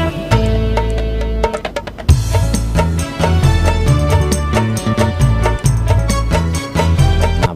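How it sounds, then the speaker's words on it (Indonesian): Stereo piano music plays at a full level, with chords and bright struck notes moving along continuously, a brief pause near the start, and no voices. "Anda bisa dengar piano itu kejar-kejaran ya, kiri ke kanan, kiri ke kanan, kiri ke kanan dari sini ya."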